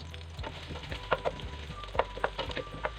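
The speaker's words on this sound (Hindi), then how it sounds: "प्याज का कलर चेंज होने तक इसको फ्राई करना है" Sliced onions frying in hot oil with whole garam masala for vegetable pulao, a soft sizzle with a few sharp crackles and pops standing out over a low background hum.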